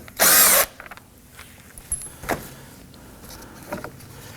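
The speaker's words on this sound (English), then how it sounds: "Using a 10mm socket or a Phillips head screwdriver, loosen and remove the two securing bolts." A power driver whirs once in a short, loud burst on the front license plate bracket bolts of a 2018-2024 Toyota Camry, followed by faint clicks and small handling knocks.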